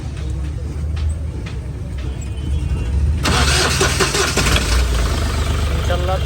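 A car engine is cranked and catches midway, jumping from a low rumbling turnover to a louder running roar, with voices faintly underneath; the car had a starting problem.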